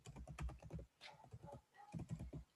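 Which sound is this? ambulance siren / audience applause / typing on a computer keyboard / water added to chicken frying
typing on a computer keyboard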